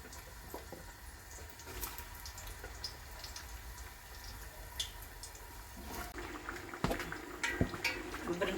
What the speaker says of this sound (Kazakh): кабачокты салып қуырамыз